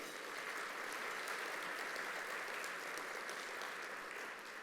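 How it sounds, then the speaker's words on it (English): Steady applause from an audience at a chamber of commerce business luncheon, a dense even patter of clapping that holds at a constant level for several seconds with no voices over it. "How about a round of applause for Valero?"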